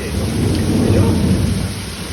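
Deep rolling thunder rumbles continuously over steady, heavy rain during a lightning storm in Radhanpur, Gujarat, with no voices.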